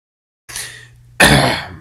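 A man coughs twice into a close microphone on a podcast, a softer hack followed by a louder, harsher burst, with no talking over it.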